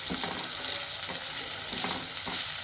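Steady, close sizzling of chopped onions frying in a pan for chicken curry, with occasional stirring scrapes breaking through the constant hiss.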